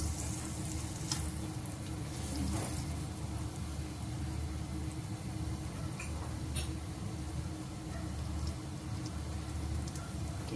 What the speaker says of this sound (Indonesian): Kita goreng hingga sebelah berwarna kuning keemasan.